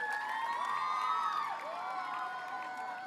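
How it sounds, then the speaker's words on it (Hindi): At a school event, an audience cheers with high shouts and whoops, many children's voices rising and falling in a steady, moderately distant roar. "तो प्लीज़ अपनी ज़ोरदार और जोशदार तालियों से भारत की बेटियों का हौसला बढ़ाइए और उनका वेलकम करिए"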